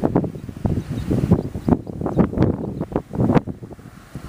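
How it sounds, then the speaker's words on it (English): Strong wind gusting and buffeting a microphone outdoors beside a beehive on a very windy day, a continuous rough roar with repeated louder bursts and no talk. "Can you hear the wind?"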